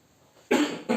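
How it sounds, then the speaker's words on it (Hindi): Two sharp coughs close by, the first longer and harsher, the second following a moment later, after a brief stretch of near silence. "सॉरी बच्चों, खांसी हो रही है।"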